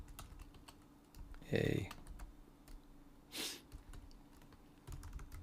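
Keystrokes patter on a computer keyboard at a desk during coding on Linux, a quiet run of separate clicks with a couple of louder bursts, while a voice speaks briefly and softly.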